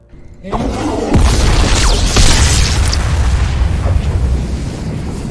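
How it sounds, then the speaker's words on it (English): Bombs bursting in the video game Smoke and Sacrifice: after a brief quiet start, a loud booming blast sets off a dense, sustained rumble with several sharper explosive hits layered over about five seconds, no speech. "They just exploded in midair."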